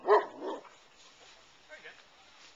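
A dog gives two quick, close barks or yips at the start, followed by softer whimpering sounds in a quiet room.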